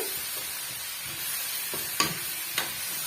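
Bitter gourd pieces sautéing with masala in a pan for a tamarind kulambu: a soft, steady sizzle under a couple of crisp spatula scrapes near the end, close and fairly quiet, with no talking.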